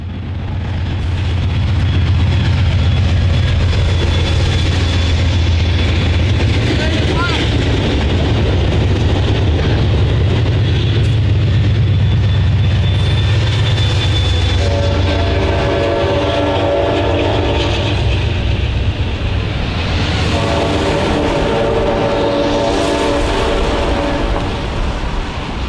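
An Amtrak P42 passenger train rolls past a grade crossing, loud and close, its engine rumbling steadily, with a high horn tone partway through and wheels clattering as the cars pass.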